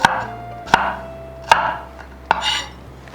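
A knife chops red bell pepper on a cutting board in four sharp, evenly spaced strikes, each followed by a brief scrape, close and clear with no talk.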